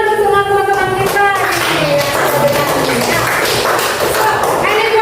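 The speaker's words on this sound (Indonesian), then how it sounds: "Tepuk tangan untuk teman-teman kita." A classroom of students claps loudly for their classmates, a dense burst of quick claps and thumps close by, with children's voices talking over it.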